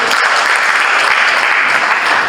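Audience applause at a student association handover and inauguration ceremony, a dense, steady burst of clapping from a crowd lasting a couple of seconds, with no voices over it.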